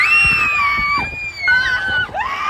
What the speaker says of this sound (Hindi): हमने इतनी जोर से चीखें निकाली कि मम्मी नीचे से ही हमें घूरने लगी